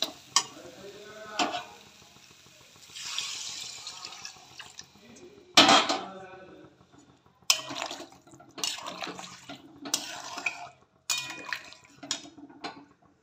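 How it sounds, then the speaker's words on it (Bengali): Water is poured into a pan of potato curry, aloo dum, bringing loud splashing and sizzling bursts mixed with stirring and clanks of utensils on the pan, in uneven surges close by. "এবার আমি জল দিয়ে দেবো"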